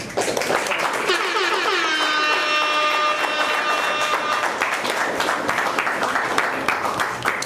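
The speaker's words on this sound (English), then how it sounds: "Another round of applause." Audience at an Angry Cow Poetry celebration clapping for a performer, a full, sustained round of applause under a held tonal sound in the first half, with the clapping continuing alone afterward.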